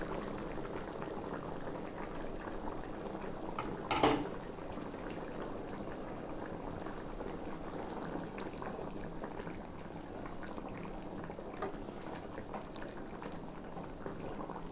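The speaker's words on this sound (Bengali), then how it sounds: "এবার ঢাকা চাপা দিয়ে কিছুক্ষণ ফুটিয়ে নেব।" Potato and tomato curry simmers under a lid in a pot, a faint, steady bubbling with one brief knock partway through and no speech.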